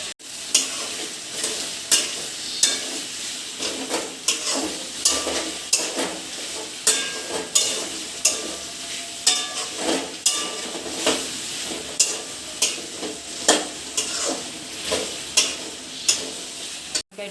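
Vegetables sizzle in a pan for a dal-free brown rice vegetarian khichuri, with steady frying hiss and regular scraping stirring strokes about once a second, close and clear with no talking.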